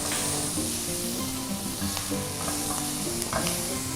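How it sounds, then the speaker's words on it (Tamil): Prawns stir-fried with soy sauce sizzle loudly and continuously in a hot pan, close up. A spatula stirs and scrapes now and then, and no voices are heard. "ஸ்டிர் ஃப்ரை ப்ரான்ஸ் வந்து நல்லா குக் ஆகிடுச்சு"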